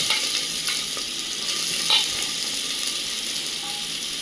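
Chopped onions hit hot oil with dried red chillies for yakhni pulao, giving a steady, bright frying sizzle throughout with a few scraping stirs, close and alone with no talk.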